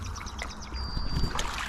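An inflatable two-person boat is paddled with a single oar along a river, water splashing and dripping steadily near at hand as birds call faintly in the background.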